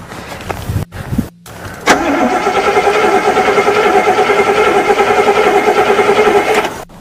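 A car engine cranks in short stuttering bursts, then catches and settles into a steady, loud running roar close by that lasts about five seconds before cutting off.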